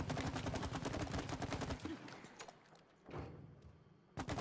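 Goo is fired rapidly from a weapon in the co-op video game It Takes Two, making a fast, dense burst of repeated shots. It breaks off into softer thuds and splats, then a final sharp hit.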